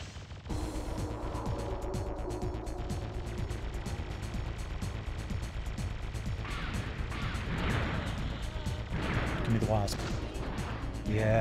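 Weapons fire in a video game as a rapid, rhythmic stream of sharp shots, mixed with mechanical clanks and heavier blasts later on, while a voice talks underneath.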